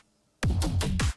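A crisp electronic clap sample from a remake fires four times in quick, even succession, loud and dry with no talk.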